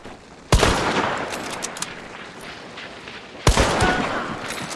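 Two loud, close gunshot blasts in the Hunt: Showdown video game, the first near the start and the second about three seconds later, each a sharp crack followed by a ringing tail over a steady background of game ambience.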